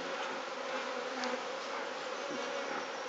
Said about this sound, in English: there's quite a lot of bees in here, isn't there?